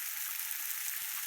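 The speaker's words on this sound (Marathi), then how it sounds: "इतकी सुंदर लागते ना ही शेव भाजी तेलात फ्राय होते" Sev bhaji frying in oil, a continuous bright hissing sizzle that stays even and close throughout, with a brief low knock near the end.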